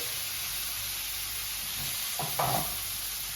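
Wood pigeon breasts, bacon lardons and mushrooms fry in a pan with a steady, close sizzle, and brief scraping stir strokes rise near the end.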